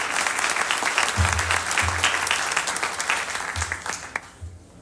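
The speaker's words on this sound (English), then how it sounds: "So give them a big round of applause for all the help and sponsors" A crowd at a sourdough baking session applauds for the helpers and sponsors, steady clapping throughout that fades near the end.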